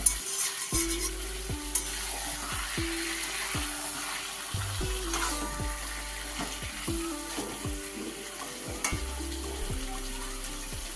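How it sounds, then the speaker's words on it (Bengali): Chicken stirred and sautéed in a pan for a spicy red chicken curry, a steady sizzle broken by repeated scraping strokes of a spoon, with faint background music tones running throughout. "দশ মিনিট মতন কষিয়ে নেব"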